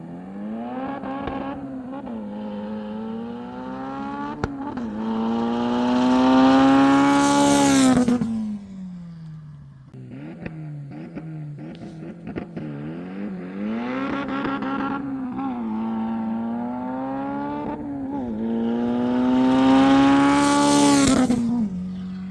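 A modified mid-engine Honda CRX of about 500 hp accelerates hard on a street quarter-mile test run, its engine climbing through the gears in two long, loud pulls with brief drops at each shift and a rising whine at the top of each run.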